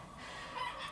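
Three black hens clucking softly at close range in a brief, quiet burst of low, murmuring fowl sounds.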